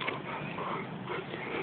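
A Karakachan dog whimpers and whines softly and continuously at close range against a muffled, noisy background.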